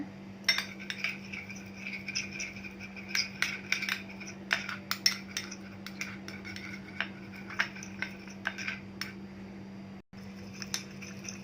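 Vitamin E cream mixture being stirred in a bowl for a homemade anti-aging face cream, with a steady run of small clinks and scrapes of a spoon against the bowl, close and fairly quiet over a low hum.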